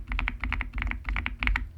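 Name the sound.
typing on Dark Project KD87A keyboard with stock switches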